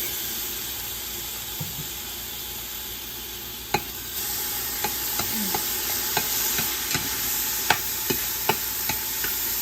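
Minced garlic frying with onions in a pot gives a soft, steady sizzle, broken by occasional light clicks of stirring and scraping.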